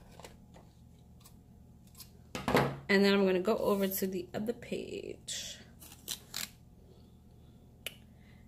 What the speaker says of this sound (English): Just gonna go ahead and cut it